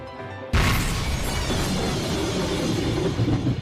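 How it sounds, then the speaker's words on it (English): A massive explosion sound effect from the Umineko visual novel bursts in suddenly after soft background music, then a loud, dense roar and rumble continues steadily to the end. "a massive explosion engulfed Lambda Delta and burned Castell"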